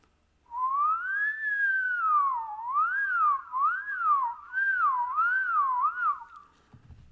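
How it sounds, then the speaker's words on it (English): One person whistles a clear melodic line close to the microphone in a lecture room, starting with a long rising and falling tone and moving into a wavering run of quick repeated swoops, lasting about six seconds before stopping. "So let me whistle."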